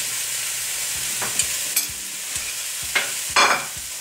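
Ginger, garlic and chili stirred in a hot pan, with a steady sizzle running throughout and several distinct scraping strokes of the utensil against the pan, the loudest near the end, and no talking.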